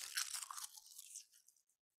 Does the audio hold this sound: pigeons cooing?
no